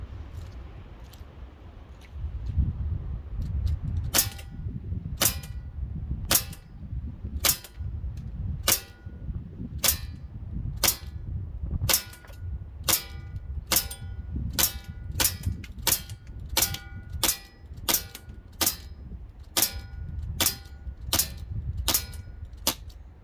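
A Russian A-3000 pistol fires at a steel target, a long series of sharp, evenly spaced shots about one per second, each with a metallic ring, over low background rumble.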